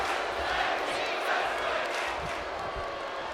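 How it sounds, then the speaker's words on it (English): Arena crowd noise from a WWE 2K25 tag team wrestling match, a steady dense roar of fans chanting and cheering throughout, loud and continuous with no clear breaks. "Tag team wrestling chants in the crowd"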